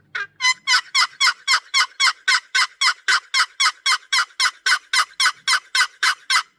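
Wooden turkey box call played in a fast, even series of about twenty loud, close yelps that sound like a hen turkey, with no voice over them.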